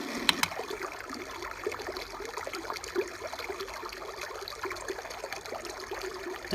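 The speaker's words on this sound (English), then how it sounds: "There's brook." The brook setting on a Big Red Rooster white noise machine plays a steady, gentle trickle of running water, even and continuous, after a couple of quick clicks at the start.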